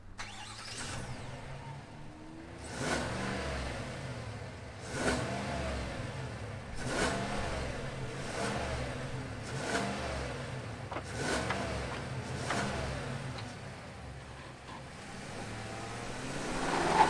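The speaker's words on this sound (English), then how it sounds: "let's fire this V8 up and hear its rumble" A 2022 GMC Sierra Denali Ultimate's 6.2-liter V8 starts and is revved repeatedly, a near, deep rumbling idle broken by a series of regular throttle blips that rise and fall.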